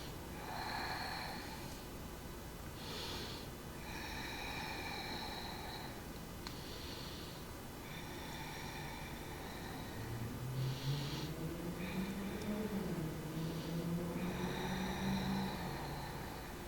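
Deep breathing during a power yoga stretch: slow, close inhales and exhales repeat in an even rhythm over a soft background hiss.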